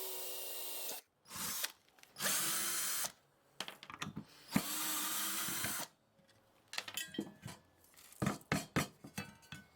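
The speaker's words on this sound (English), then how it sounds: "we chain drill the big hole" A power drill bores a ring of holes into a metal end plate for a bench grinder, with several loud whining bursts separated by pauses, followed by clinks and taps of metal handling.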